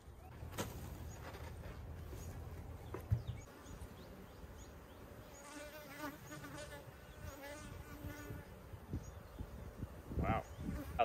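Honeybees in an opened queen-rearing hive buzz in a faint, steady hum, with a few light handling knocks and clicks close by and no talk.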